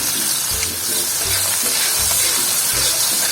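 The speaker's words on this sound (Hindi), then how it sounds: "अब एक बड़े साइज की प्याज ब्रीक चॉप की वो इसमें शामिल कर दें" Chopped onion frying in a pot with whole spices: a loud, steady sizzle and crackle fills the sound close up, with faint low knocks of stirring underneath.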